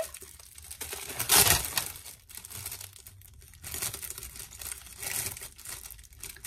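Paper crinkling and crumpling in bursts, loudest early on with a sharp tearing-like rustle, then softer intermittent crackles close to the microphone.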